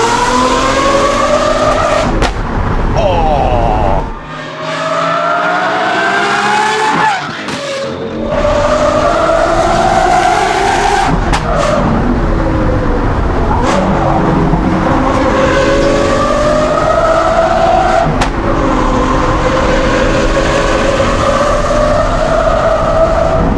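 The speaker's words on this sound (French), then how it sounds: "Je suis le plus grand fan des V10, mais un V12 avec un bon échappement." Lamborghini Aventador SVJ with a V12 engine and aftermarket exhaust, loud and close, revving hard through repeated rising gear pulls with a sharp drop in the middle, continuous and without talk.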